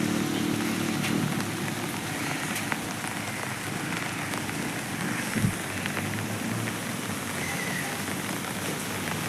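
Steady heavy rain pours down on the NH 66 highway at Randathani, hissing and pattering on surfaces without pause, a dense even wash of sound with occasional louder drops.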